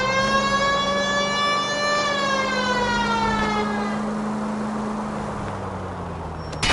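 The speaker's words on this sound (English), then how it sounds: "The siren might keep people out of your way, Phil." A loud wailing police car siren from a video game sweeps slowly in pitch, steady and close, with a faint thump at the very end.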